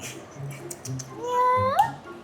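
A cat gives a single drawn-out, rising meow, close and fairly clear, over faint background noise and soft voices.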